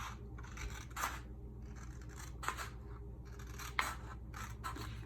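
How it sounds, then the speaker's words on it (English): Scissors snip through paper along a score line in a few crisp, close cuts, with faint rustling between the snips and no talk. "I'm going to cut on that score line."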